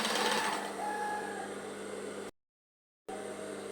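A sewing machine runs steadily while stitching a scrub top's V-neckline, a close, even mechanical whir that stops abruptly partway through, leaving a short silence before a quieter hum returns.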